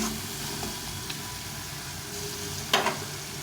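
Bottle gourd and fish head stir-frying in a pan for a Bengali lauki ghonto, giving a steady low sizzle with faint scraping stirs and one brief louder clatter near the end.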